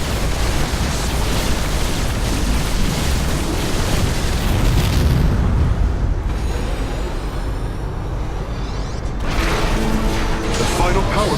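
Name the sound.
power core exploding in StarCraft 2: Legacy of the Void (video game)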